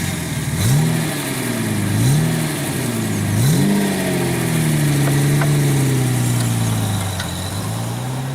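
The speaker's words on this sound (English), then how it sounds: "today we're driving the Series 3 E-Type V12" A Jaguar Series 3 E-Type V12 engine runs close by, blipped through several rising and falling revs before settling into a steady, smooth hum, with no voices.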